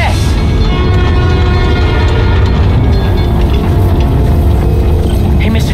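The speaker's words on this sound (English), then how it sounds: "My trusty New York subway." Subway train from the Spider-Man: Miles Morales video game, set in New York, roars loudly and steadily for the whole stretch with heavy rumble, a clattering rail rhythm and a sustained horn-like tone, with no voices.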